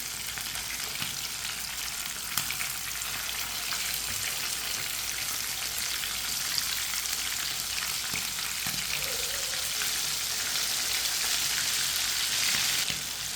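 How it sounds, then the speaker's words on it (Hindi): Chicken frying in a pan for an Eid-special recipe, a steady close sizzle and crackle running unbroken throughout, with no talk over it. "चार मिनट हो चुके हैं चिकन को पकते हुए"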